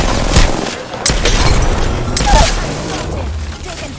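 Video game gunfire in a final-circle firefight: dense bursts of automatic shots and booming impacts overlap continuously at close range, loud and chaotic throughout.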